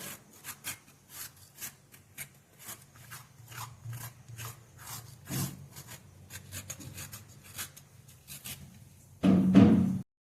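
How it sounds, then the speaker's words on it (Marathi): Ridge gourd being scraped to strip its ridges, a run of short rasping strokes in quick uneven rhythm, close and fairly soft, ending in a louder, heavier scrape. "आता आपण ह्याच्या आधी शिरा काढून घेऊया। त्यासाठी बघा, अशा पद्धतीने शिरा काढून घ्यायचे आहेत।"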